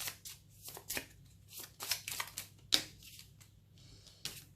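Tarot cards shuffled and drawn during a French-language reading: a quiet run of brisk riffling swishes and soft card slaps, several separate bursts with short pauses, close up and alone.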